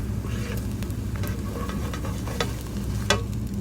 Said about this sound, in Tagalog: you can cook your egg roll using regular fry pan